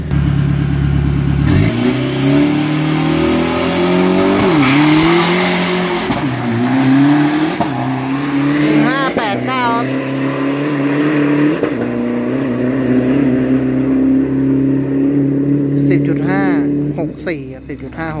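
A 2500cc turbocharged pickup truck, about 1500 kg, races at a drag strip, its engine roaring loud and continuous with repeated rising revs and gear changes, while a commentator talks over it throughout.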